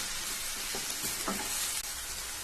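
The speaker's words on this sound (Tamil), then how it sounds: "இப்ப நம்ம வெங்காயத்தை எண்ணெயில நல்லா வதக்கிக்கலாம்." Onions sautéing in hot oil in a pan for Chinthamani chicken, a close steady sizzle with a few soft stirring scrapes.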